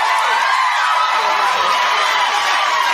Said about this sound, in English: Okay, listen to the crowd.